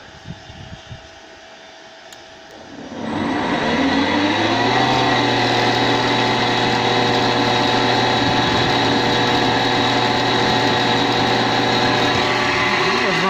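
Electric feed motor on a jointer's feed table starts up and spins up to a steady, smooth whirring drone at reduced speed, close and continuous with a faint mechanical hum, no talking over it.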